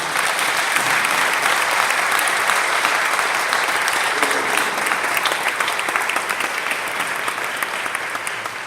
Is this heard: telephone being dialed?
no